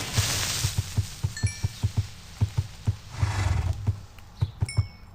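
A horse in Minecraft, with a steady run of evenly spaced hoof clops and a brief neigh-like rise, near and moderately loud, with small chiming tones on top.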